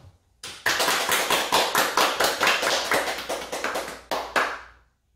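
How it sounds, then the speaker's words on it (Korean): A church congregation claps in unison to celebrate a member's birthday, a close, regular beat of sharp claps that runs for several seconds, then breaks off, with a final pair of claps. "우리 박수로 생일 축하하겠습니다"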